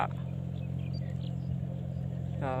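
An old imported Kubota three-cylinder tractor on steel wheels treading a rice paddy gives a low, steady engine rumble from a moderate distance, with a voice briefly starting at the end.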